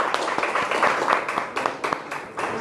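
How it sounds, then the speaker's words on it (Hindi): Audience applause at a product training session, a steady wash of many hands clapping with distinct louder claps, fairly close and continuous throughout. "एक बार दोबारा से तालियां।"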